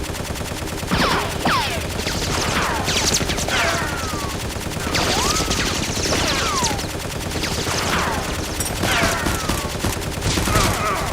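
Nerf guns firing in a staged police action scene, heard as a dense, continuous clatter of rapid shots with whistling, sweeping tones layered over it, loud throughout, with faint voices underneath.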